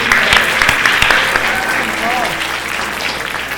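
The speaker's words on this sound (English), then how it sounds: "Let's once again applaud Namita for that graceful" An audience applauds a dancer after her arangetram performance in Charlotte, North Carolina, a loud, dense and sustained ovation close by, with an announcer speaking over it.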